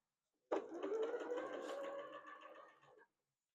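A sewing machine stitching quilt fabric runs in one close, steady burst of about two and a half seconds, with a whirring motor and rapid needle clatter that fades a little before it stops.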